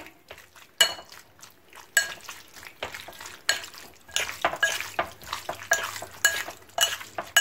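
Calamari and shrimp sauté in a frying pan for a seafood pastilla, with a soft sizzle under repeated sharp scrapes and clinks of a utensil stirring against the pan, close and fairly loud.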